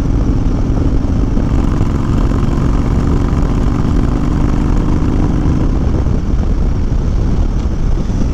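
A 2020 Honda Fury fitted with a Cobra fi2000 tuner rumbles steadily in fifth gear near 65 mph, a loud, continuous engine drone mixed with heavy wind rush, no speech.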